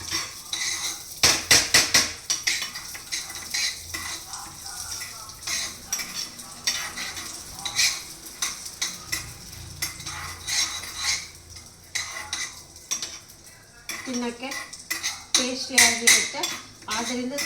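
Food frying in a pan while a spoon stirs and scrapes it toward light brown, with repeated metallic clinks and scrapes over a soft sizzle, busier bursts of stirring near the start and end, and a voice talking.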